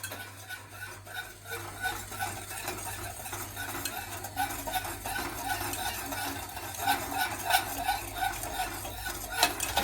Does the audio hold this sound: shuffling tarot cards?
no